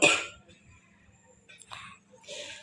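A single loud cough from a woman with a cold bursts out at the start, followed by quiet background murmur and a couple of softer breathy throat sounds.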